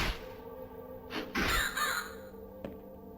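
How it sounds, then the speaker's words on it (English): Crows cawing in a Resident Evil roguelite dungeon game, a few harsh caws rising over a steady ambient game background, fairly close and moderately loud. "Anyway, I'm just gonna stab birds."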